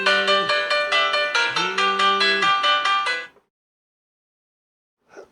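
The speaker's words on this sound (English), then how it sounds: "Now if Bob rings, it will ring with the default ringtone." The default ringtone of a Doro 7030 mobile phone plays a bright, repeating electronic melody for about three seconds, loud and clear, then cuts off into silence before a brief faint blip.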